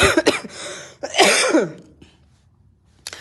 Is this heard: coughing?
yes